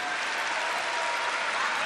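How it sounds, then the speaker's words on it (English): A local crowd at a table tennis match cheers and applauds steadily in a dense, loud wash of clapping and voices filling a large arena for a couple of seconds. "Cohen Pong getting the locals cheering."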